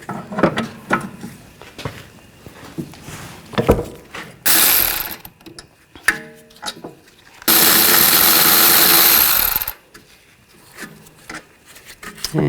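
A hand ratchet fitted with a 17mm socket clicks in quick bursts as it loosens the rear caliper bracket bolts on a 2012–16 Honda CR-V, the close ratcheting broken by a few louder rasping spells and brief pauses.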